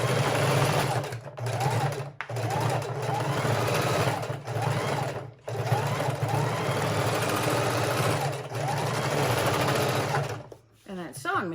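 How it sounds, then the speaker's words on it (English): A sewing machine stitches pockets onto junk journal pages in rapid, buzzing bursts separated by brief pauses, loud and close, with a few short stops and restarts. "that sewing machine really just wants to jump all over the place"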